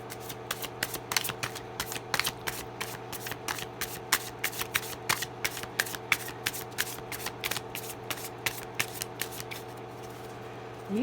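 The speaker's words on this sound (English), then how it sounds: "These are well shuffled too" Tarot cards shuffled by hand in a rapid, steady run of crisp riffling flicks lasting several seconds, close and fairly quiet over a low constant hum, with no talking.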